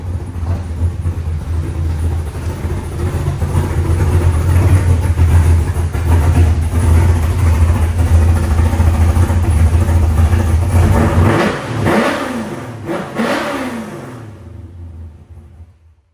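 Mopar Muscle Truck engine rumbling steadily as it drives onto a lift, a loud, close, deep idle-like drone that swells slightly, then cuts off near the end with a few clunks.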